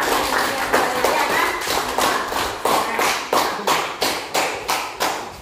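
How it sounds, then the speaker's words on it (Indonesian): Classmates in a classroom applaud together, a brisk run of rhythmic hand claps with strong, evenly spaced beats that carry on steadily for several seconds. "Mari kita tepuk tangan untuk teman kita yang tadi"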